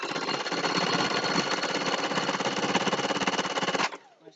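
A sewing machine runs fast and steady for several seconds, a dense rattling buzz close by, then stops abruptly.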